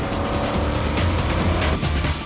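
The Hot Wheels Twin Mill custom car, powered by twin supercharged 505 big-block engines making 1,800 horsepower, roars loudly and continuously with bursts of tire squeal, no talking.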